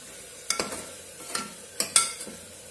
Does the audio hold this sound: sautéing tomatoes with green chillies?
yes